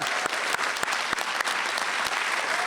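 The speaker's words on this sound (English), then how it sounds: "can I get another round of applause for the new students?" A crowd at a college fall convocation ceremony applauds new students, a steady roar of clapping with a few sharper individual claps standing out, moderately distant.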